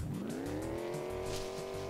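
A car driving in the video game Envirobear, with a rising engine rev and a tire squeal. It is quiet and steady, and no one talks.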